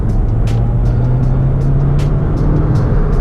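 A Golf GTE with a turbo upgrade, not yet at full boost, accelerating in a middle gear; a steady, loud engine and road drone from inside the cabin with a few light clicks on top.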